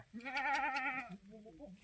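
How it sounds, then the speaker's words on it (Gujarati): Goats bleat in the Gir forest: one long, loud, wavering bleat followed by a shorter, quieter one, close by with no talk. "અમારા જયદીપભાઈ ને બે બકરા સારે બતાવો અમારા માટે"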